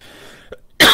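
A person coughs once sharply and close by at the end of a brief moment, after a faint throat sound and near silence, during flu season.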